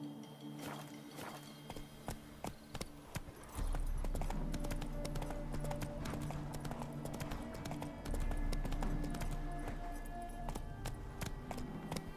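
Steady hooves of a horse in The Witcher 3: Hearts of Stone clip-clop at a walking pace, each hoof strike a sharp click, over a low continuous rumble that grows louder partway through.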